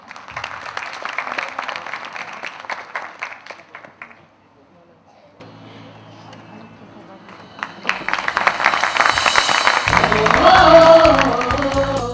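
Spectators applaud as children with special needs take the stage for a play of Andher Nagri Chaupat Raja. Voices come first, then a short lull, and then the clapping swells loud and thick, with music mixed in.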